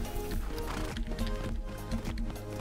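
Pony hooves gallop in the video game Tales of Rein Ravine, a loud, steady, rhythmic clip-clop running through the whole stretch.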